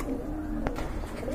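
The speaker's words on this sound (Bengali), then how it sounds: "খুবই সুন্দর আর অনেক বড় সাইজের এক জোড়া কবুতর" A pair of large pigeons coo in a continuous low murmur close by, steady and moderately loud with a brief click partway through.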